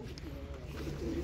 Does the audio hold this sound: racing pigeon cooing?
yes